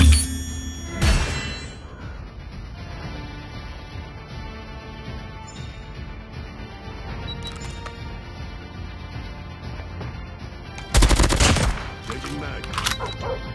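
Gunfire in Call of Duty Mobile multiplayer, with a loud opening burst, scattered shots through the middle and another heavy automatic burst near the end, heard under game sounds and music.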